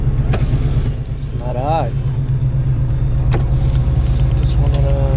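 Car cruising with its windows rolled up on a cold day, a steady low engine and road rumble filling the cabin, with a few spoken words, a brief high squeal and passing clicks on top.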